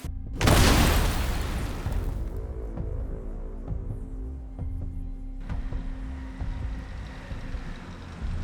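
A Russian MT-LB armored vehicle explodes after an FPV kamikaze drone strike, a loud, close boom at the start that rolls into a long rumbling roar and fades, followed by a quieter sustained low rumble with scattered crackles.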